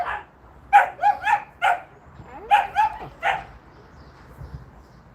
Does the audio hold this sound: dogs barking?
yes